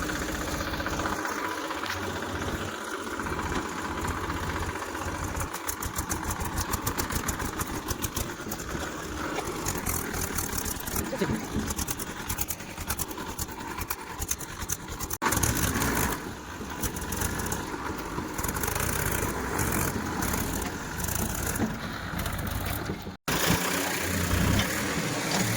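A tractor engine runs steadily throughout, a continuous loud mechanical drone with a knocking idle quality and no talk, as the tractor sits stuck.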